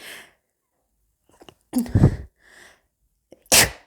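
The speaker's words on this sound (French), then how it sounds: "je sens que je vais éternuer" A couple of short breathy intakes, then a sharp loud sneeze nearby, followed by a quieter second burst after a pause.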